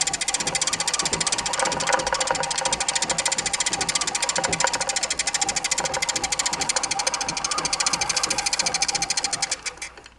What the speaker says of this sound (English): So now I have the green thread on the bobbin winder with a new bobbin winder tire.